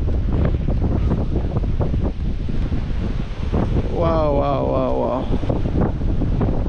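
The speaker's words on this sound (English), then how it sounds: "Imagine how crazy the wind is." Strong wind buffets the microphone outdoors in Argentina, a loud, continuous rumbling roar with gusts, while a voice briefly exclaims over it.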